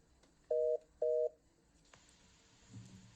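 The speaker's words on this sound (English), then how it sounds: "let me now invite those wishing to call in with questions to proceed and dial" Two short steady telephone tones, each lasting about a quarter second, sound loud and clean at a bank's annual general meeting as callers dial in, followed by faint room noise.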